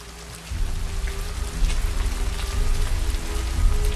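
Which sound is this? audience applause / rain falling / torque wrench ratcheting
rain falling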